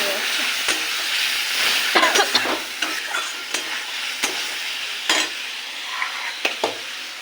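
Banana flower frying with spices is stirred in a pan, giving a steady close sizzle broken by repeated sharp scrapes and clinks of the spoon.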